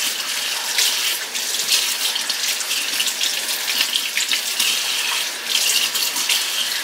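Hot water runs from a kitchen tap into the sink in a steady, close gush that holds at an even level throughout, with no one talking.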